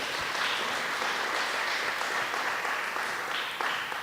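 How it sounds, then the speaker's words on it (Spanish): Dense, even applause fills a hall at the Docs Forum 2013 documentary event. The clapping stays at a constant level from start to finish, with no voices on top. "Un aplauso, por favor."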